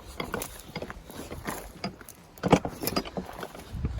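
Ratchet wrench working on rusty 7/16 bolts on an old car outdoors in the woods, giving a series of uneven metallic clicks and clanks in bursts, fairly close and moderately loud.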